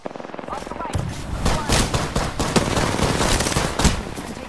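Rapid gunfire from the Apex Legends battle royale game, a dense run of sharp shots in quick bursts, loud and close, with game voice callouts in the mix.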